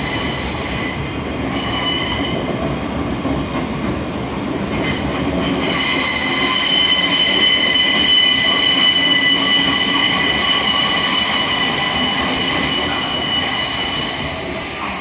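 Loud, continuous metallic wheel flange squeal from trains at a London Bridge platform, a sustained high screech layered over rumbling rail noise and carriage movement, holding steady for the whole stretch.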